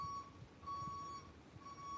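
Electronic beeping sounds as a thin, steady high tone in long pulses, each lasting about half a second with short gaps, faint and distant against a quiet indoor background.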